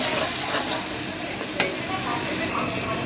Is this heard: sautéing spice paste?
yes